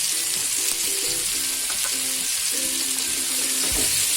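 Onion, tomato and cabbage fry steadily in a pan for moong dal pulao, a continuous close sizzle with faint stirring scrapes and a low hum throughout.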